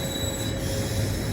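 A passenger train pulls out of Katpadi Junction, a steady broad rumble of wheels and carriages with a faint high squeal running through, continuous and close for the whole stretch.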